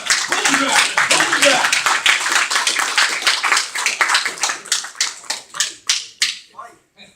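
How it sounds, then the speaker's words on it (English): A small crowd claps after a political debate, brisk rapid hand claps close and loud that thin out into a few scattered final claps before stopping. "Round of applause, everybody."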